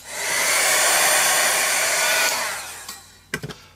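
A heat tool blows loudly and steadily for about two and a half seconds to dry a paint layer on an art journal page, then winds down, followed by a few light taps and clicks.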